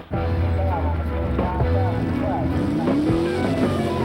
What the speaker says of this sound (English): Hot rod truck mud racing, fast, dangerous, and dirty.